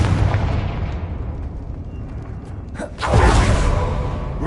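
A Confringo fire spell from Hogwarts Legacy explodes on PS5, a rumbling blast building under steady noise and surging loud around the three-second mark, with a voice calling out the spell beforehand.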